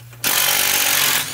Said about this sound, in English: So I just removed the one bolt on the undercover, right?